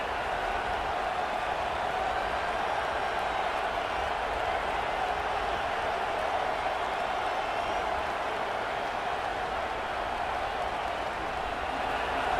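A roaring stadium crowd at a college football game, LSU against Penn State, holds a steady, loud wall of noise throughout with no breaks, building pressure during a red zone stand.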